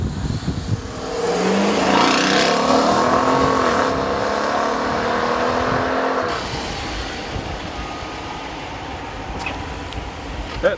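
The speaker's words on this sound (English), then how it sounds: "That engine does sound good, Nathan." A HEMI V8 in a 2014 Dodge Durango R/T with an eight-speed automatic revs up loudly and close, a rising engine roar that holds for several seconds, then settles back toward a steady idle.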